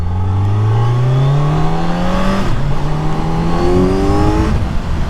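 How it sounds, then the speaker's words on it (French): A 2025 Kawasaki Z900SE four-cylinder motorcycle accelerating loudly up through the gears, its rising engine note dropping at a shift midway before climbing again. "c'est un 4 cylindres hein, donc de toute façon les 4 cylindres ça chantonne un peu"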